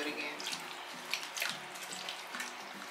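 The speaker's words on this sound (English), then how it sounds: "I pour all the water out and then I redo it again" Water poured out of a container while rinsing dye from a wig, a faint, brief splashing and trickling with a few louder gushes at close range, alone.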